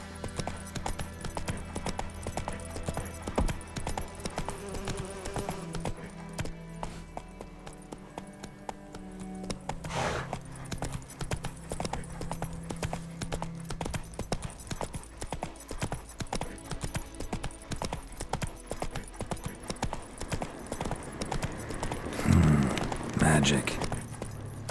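Roach, the horse in The Witcher video game, trots with steady, even clip-clop hoofbeats close by, over a bed of ambient game music, while a voice speaks briefly over it.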